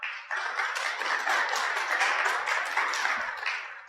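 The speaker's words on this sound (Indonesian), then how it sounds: "Kita tepuk tangan untuk mereka." Hands clapping from an audience at a Carmelite study day and closing Mass in a church, a brisk, continuous patter of claps at moderate volume that holds steady, then tapers near the end.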